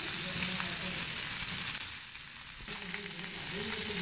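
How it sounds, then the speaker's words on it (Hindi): A fish head fries on one side in an oiled pan for fish head curry or soup. A soft, steady sizzle with faint crackles continues throughout at a modest level. "देखिए ये हमारी मछली के साथ जो एक साइड से पहले मैं फ्राई कर रही हूँ"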